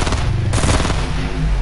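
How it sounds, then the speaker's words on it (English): Gunfire from a gun in a video game, a loud, dense burst of rapid shots blending into one continuous roar, with no talk. "I got a gun, I'm shooting it"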